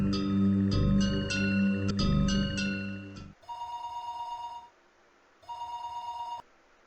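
A telephone rings in the Higurashi When They Cry visual novel video game, starting with a quick, rapid electronic trill. Two longer, clear rings follow, each separated by a short silence, with no talking.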